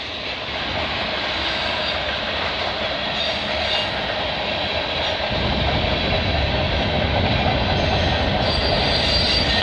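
A CN freight train, M301, rolls steadily past at Burlington Junction near Oakville, a continuous loud rumble of railcars with wheel squeal and clatter filling the whole stretch, no voices.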